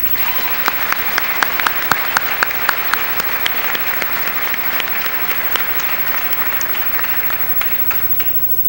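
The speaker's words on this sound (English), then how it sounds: "Let's give them one more round of applause." Audience applause at a high school commencement ceremony, a sustained wash of many hands clapping steadily throughout, with sharper individual claps standing out near the front.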